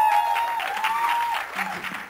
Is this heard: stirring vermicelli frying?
no